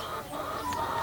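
Hens clucking in a backyard coop with roosters nearby, a steady low murmur of soft clucks and calls running throughout at close range, with no talking.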